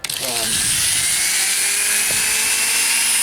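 High-pitched whine of a rotary tool spinning up with a round steel burr, then grinding steadily on a carved wooden muskrat, close and loud.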